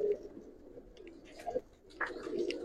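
Young Giribaz pigeons in an Old Dhaka loft coo in soft repeated low phrases at close range, with faint chirps and light background noise, no talking.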